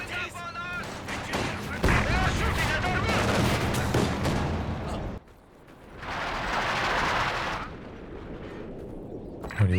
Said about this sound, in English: It's getting barraged by the ISG.